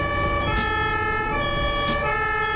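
Ambulance siren wailing continuously and loudly at close range, a steady electronic tone with a low rumble of road traffic underneath.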